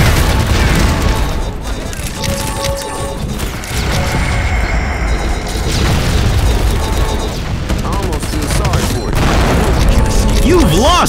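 Game explosions and gunfire from a mobile shooter, Valorant-style ShadowGun War Games, with dense booming blasts and crackling shots throughout, layered under game voice lines and music.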